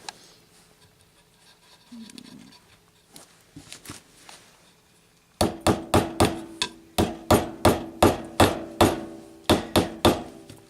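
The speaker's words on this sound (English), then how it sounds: "You hammer it in a little bit so that it just like stays in" Bolt hammered into a wooden kanabo club, starting with a few light scattered taps, then a loud, steady series of about a dozen sharp close hammer blows at an even rhythm.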